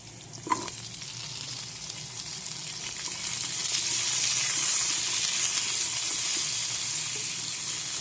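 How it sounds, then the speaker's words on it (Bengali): Pointed gourd (potol) dropped into hot oil, a soft clunk followed by a sizzle that builds into a loud, steady hiss, close by with no voices. "চলো এবার পটলগুলো এই তেলে ছেড়ে দেবো, পটলটা ছেড়ে দেবো"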